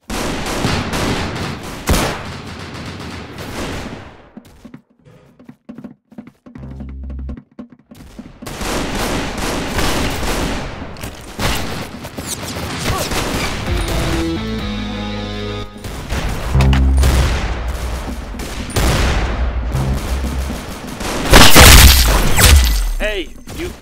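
Gunfire in a loud, chaotic battle scene, with bursts of shots, booms and crashes coming and going amid dense effects, a brief quieter stretch early on, and voices talking over parts of it.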